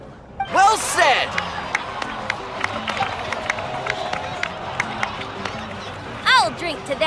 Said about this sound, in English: so please give another round of applause for them.